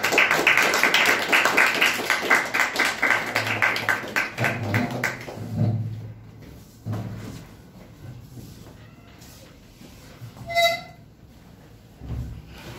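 Students in a classroom at a storytelling competition applaud a fellow student, Virendra, with a burst of brisk, fairly loud clapping. It lasts about five seconds, then thins out into scattered faint taps and room noise.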